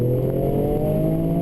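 A Toyota Yaris GR with a sports exhaust revs its engine, a steady droning exhaust note with sustained low harmonics, held loud and even throughout.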